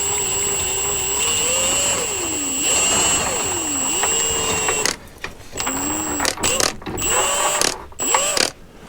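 An impact gun works 21mm subframe bolts on a Ford ST220 during front-end subframe removal. Loud, close bursts of rattling hammering come with rising and falling motor whine, broken by short pauses and renewed spin-ups.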